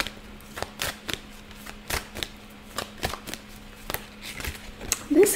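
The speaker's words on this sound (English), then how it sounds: "It kept turning and turning while I was shuffling." Tarot cards being shuffled by hand, with crisp riffling bursts repeating in an even rhythm, close and moderately loud over a faint steady hum.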